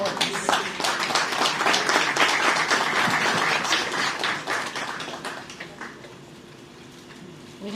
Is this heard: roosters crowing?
no